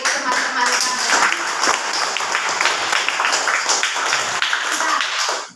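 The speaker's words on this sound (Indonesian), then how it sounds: "Tepuk tangan bagi teman-teman kalian." A classroom of children claps for their classmates, a loud, uneven patter of many small hands with some voices underneath, stopping abruptly at the end.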